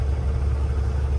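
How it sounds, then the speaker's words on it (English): A semi truck's diesel engine idles while warming up: a steady, loud, low rumble with a constant throb and no talk. "And the truck is warming up."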